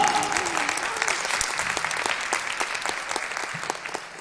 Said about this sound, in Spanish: un fuerte aplauso para Digimon